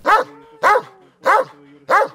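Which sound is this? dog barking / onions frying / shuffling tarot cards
dog barking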